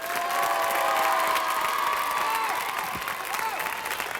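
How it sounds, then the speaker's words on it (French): Studio audience applause and cheering on a French television entertainment show, a steady crowd roar of clapping with some whistles and voices mixed in, fairly loud throughout. "Vous pouvez applaudir plus fort que ça."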